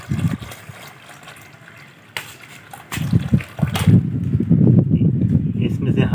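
Plain water poured into a container of RAM IC chips in a home workshop, a continuous splashing gush that starts softly, builds after a brief break and stays loud and steady to the end.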